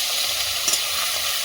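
Fish fries in a pan over a wood fire. A close, continuous hiss of hot oil runs the whole time, with a faint pop near the middle and no talking.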